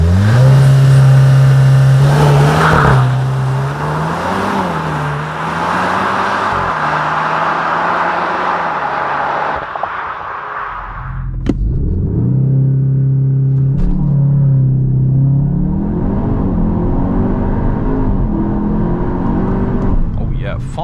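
CUPRA Leon VZ facelift with a 360 hp engine doing a launch-control start, heard from inside the cabin: a loud, held rev that climbs through gear changes, then drops briefly before climbing again under later acceleration.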